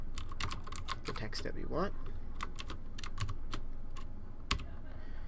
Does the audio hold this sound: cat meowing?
no